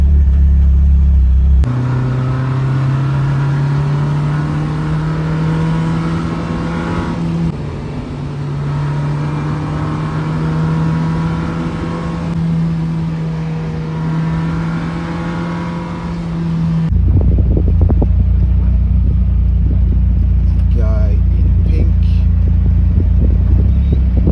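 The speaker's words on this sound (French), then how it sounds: "Il y a déjà pas mal de bagnoles qui sont en train de faire la course là-bas." Sports cars at a supercar festival rev and drone nearby with a steady engine rumble that shifts pitch as they race, then a louder, rougher burst of engine noise closes out the stretch.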